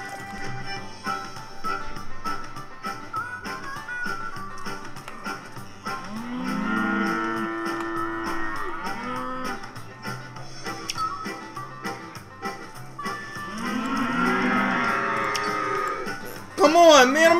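Repeated cattle moos from the video game Cowmets rise out of layered game music and effects, long lowing calls arriving in clusters, with a voice talking at times underneath.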